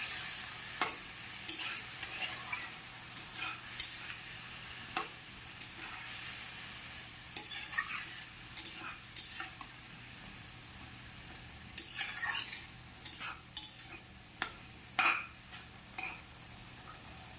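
Spice masala mixed with water being stirred in a pan, a soft low simmering hiss under repeated scraping and clinking strokes of a spoon against metal, close and quiet with no speech.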